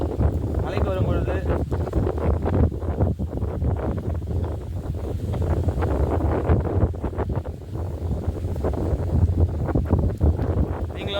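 Strong wind blasts across the microphone on Parvathamalai hill, a loud, continuous roaring buffet with a voice talking faintly underneath the whole time.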